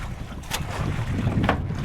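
Loud wind buffeting and water rushing around a small outrigger boat, with bursts of splashing as it rides big, rough waves.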